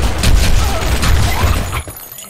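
A grenade detonates in the shooter game Blackshot, a loud, close burst with rumbling low end and crackling debris that lingers for about two seconds before cutting off.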